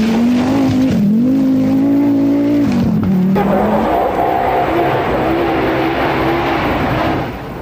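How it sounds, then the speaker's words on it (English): An Audi Quattro rally car racing, its engine note loud and close, pitch rising and falling through gear changes, then giving way to a broader roar and hiss as it passes. "And just over his shoulder was the big Quattro of Mikola, which just raced up the field."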